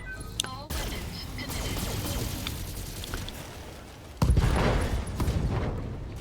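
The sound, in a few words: mech firing all its weapons in the BattleTech video game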